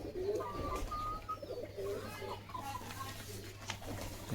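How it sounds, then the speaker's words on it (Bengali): Pigeons of several kinds on a Bangladeshi pigeon farm coo softly and repeatedly at close range, with low steady background hum and faint other bird calls. "এইগুলো হলো কবুতর।"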